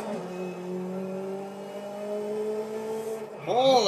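A small Japanese car's engine in Forza Horizon 5 holds a steady, close, buzzing drone through the gears, then revs sharply upward at the end.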